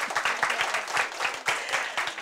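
Audience applause for debate teams at a competition semifinal, a steady close wash of many hands clapping throughout.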